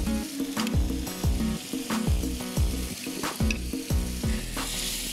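Boiled mutton frying in a spice masala for a dry preparation, a loud steady sizzle with repeated scraping stirs of a spatula against the pan, close up and with no talking.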